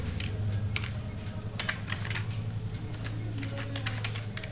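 Steady bursts of keystrokes on a computer keyboard as a list of food names is entered into HTML code, close and clear, with no speech.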